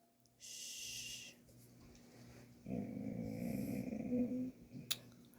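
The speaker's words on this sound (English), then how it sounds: "That wasn't a growl, that was a whine." A puppy whines near a sleepy cat on a rainy afternoon, first in a brief high cry, then in a longer, louder stretch of whimpering and snuffling breaths, ending with a sharp little yelp.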